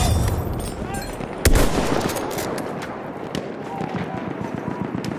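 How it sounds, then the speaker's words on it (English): Battlefield 1 gameplay with sustained rapid machine gun fire, dense bursts throughout and a sharp loud blast near the start, with scattered shots and battle noise around it. "There's a machine gun!"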